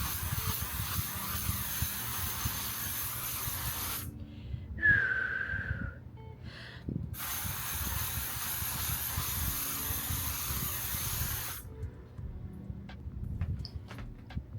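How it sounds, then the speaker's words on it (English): Setting spray mists onto a face in two long steady hisses of about four seconds each, close and fairly loud, separated by a quiet pause, with a faint low hum underneath. "Setting spray, we're gonna go in with Old Reliable"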